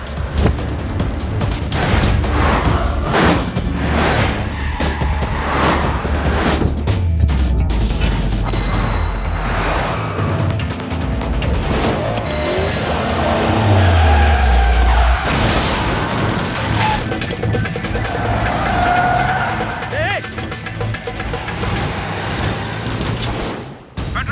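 Car chase scene from The Return Of Lion, with a car racing at speed through loud crashes, impacts and a roaring engine, a sustained dense action soundtrack of bangs and smashes throughout.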